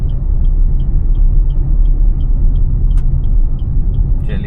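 In the City Car Driving game, a car engine rumbles loud and steady as the car brakes and pulls over, with a regular soft ticking, like an indicator, above it and a brief click near the end.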